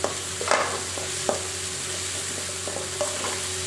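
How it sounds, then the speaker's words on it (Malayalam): A spatula scrapes and stirs an ivy gourd and onion stir-fry in a pan, several distinct knocks and scrapes over a gentle sizzle, close and without talk. "അഞ്ച് മിനിറ്റ് കഴിഞ്ഞു നമ്മളത് തുറന്ന് ഒന്നുകൂടി ഇളക്കി കൊടുക്കണം"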